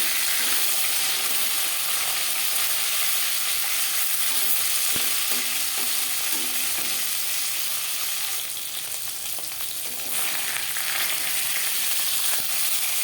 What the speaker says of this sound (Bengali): মাছ একটা সাইড ভাজা হয়ে গেলে অপর সাইডটা উল্টে দেবো।